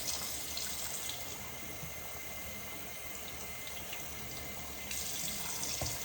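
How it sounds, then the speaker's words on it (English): Water pouring steadily from a watering can into a potted plant indoors, a continuous soft hiss and splash with no breaks, quiet and close, swelling slightly near the end. "So I'm going to water this"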